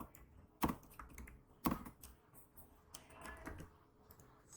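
Typing on a computer keyboard, a few sharp separate keystrokes followed by a cluster of softer, quicker clicks, close and otherwise quiet.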